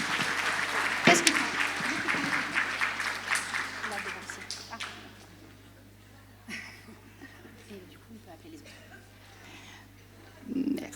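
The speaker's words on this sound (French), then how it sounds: "Et on peut les applaudir de nouveau" An audience at a school pleading-competition prize ceremony applauds the winners, with loud clapping and some chuckles at first that fade to quieter murmuring and talk, then a short burst of clapping returns at the end.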